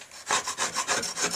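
Sticker residue being scraped off a cracked fiberglass Sunfish sailing dinghy rudder, heard as a quick series of rhythmic rasping strokes, close and fairly loud, with no voices.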